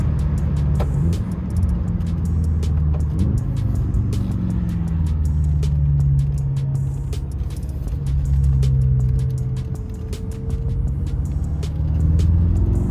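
A BMW F10 M5 fitted with Gamma intakes accelerating normally, a steady deep engine drone with rising and falling rumble, heard from inside or close by, loud and continuous with no talking.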